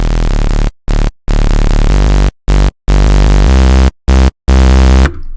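Loud, buzzy saw-wave synth bass notes repeat in short chopped bursts with gaps between, the pitch stepping up partway through, ending in a brief tail.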